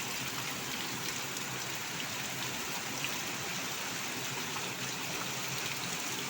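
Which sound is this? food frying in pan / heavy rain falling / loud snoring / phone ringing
heavy rain falling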